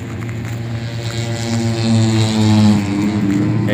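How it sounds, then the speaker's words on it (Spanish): Racing motorcycles roaring at the Aragón MotoGP Grand Prix near Alcañiz, a steady loud engine drone that swells toward the middle and eases off, heard from a distance without talk. "Ya se oyen rugir las motos del Gran Premio de Aragón."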